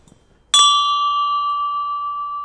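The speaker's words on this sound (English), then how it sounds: "Just as the bell tolled one" A single bell strikes once for one o'clock, a sharp clear ring that hangs on as a long, steady, slowly fading tone in an otherwise quiet room.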